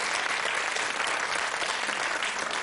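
A studio audience at a television quiz show gives a big round of applause, steady, dense clapping from many hands that holds evenly for the whole stretch.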